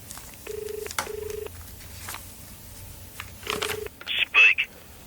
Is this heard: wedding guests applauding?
no